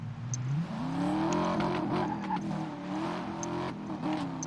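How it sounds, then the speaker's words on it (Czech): A Maserati engine in the 2012 racing game Need for Speed: Most Wanted revs up and holds a loud, steady roar, with pitch swells and a few sharp clicks and thumps over the continuous drone. "Nejvíce mi líbí zvuky u aut, například i u toho dvě Maserati."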